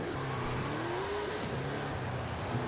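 A car on wide drag slicks with fully upgraded suspension launches hard in Forza Horizon 5. The engine roars and revs upward steadily, loud and close, with no talk over it.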